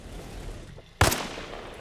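A single sharp armor-piercing round fired at a vehicle in Arma Reforger, one loud close crack after quiet ambient noise, trailing off quickly.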